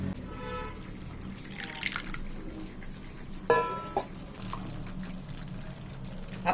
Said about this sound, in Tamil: அந்த வெந்நீரை ஊத்தி கரைச்சி ஊத்துவோம்.